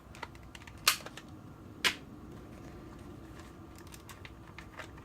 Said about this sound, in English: I'm going to take the battery out and the cartridge.